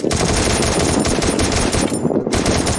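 A Thompson submachine gun in the Free Fire video game fires a sustained rapid automatic burst, loud and close, a dense stream of sharp cracks with a brief pause near the end before firing resumes.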